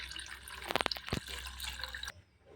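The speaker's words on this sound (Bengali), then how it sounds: "আবার জল দিচ্ছি" Water splashing and trickling over fish roe in a bowl while it is rinsed, a short close burst of pouring and drips that stops abruptly near the end.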